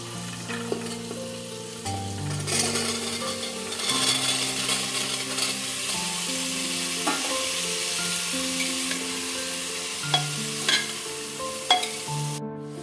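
Chickpeas and chopped tomatoes sizzling in a hot pan with cumin, a bright constant frying hiss broken by scraping stirs and occasional clinks of the spoon, with no talking.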